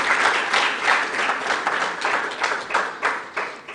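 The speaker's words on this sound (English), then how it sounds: "A round of applause." An audience at the Rwanda Internet Governance Forum 2022 breaks into a round of applause for a speaker, steady and fairly loud clapping from many hands lasting several seconds, with no talk over it.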